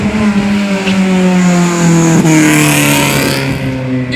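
A turbo car at a charity car event near Andrychów drives past close and loud, its engine note rising and falling steadily as it moves, with no talk.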